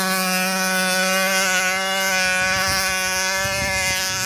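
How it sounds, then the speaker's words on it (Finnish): A moped engine idling and revving out on lake ice during an ice-fishing trip, a steady buzzing drone with rich harmonics, near and continuous, with faint bumps underneath. "kuulostaa mopoa."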